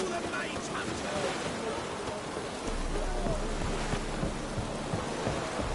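Steady rain pattering with a low rumble of thunder rolling in midway in the video game The Witcher 3, a continuous wet hiss under faint game voices.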